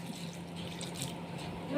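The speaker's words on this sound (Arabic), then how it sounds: "هنحط عليه نص كوبايه ميه سخنه" Half a cup of hot water poured into thick chocolate cake batter in a home kitchen, giving a steady close splashing, trickling pour that runs through the whole moment without talk.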